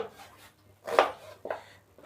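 A knife chops turnip finely on a board in a home kitchen for shalgam sabzi, giving two or three distinct, close thuds with quiet pauses between them.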